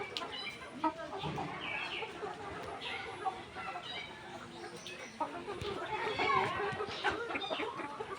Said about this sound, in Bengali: সবগুলো মুরগি এখন সুস্থ আছে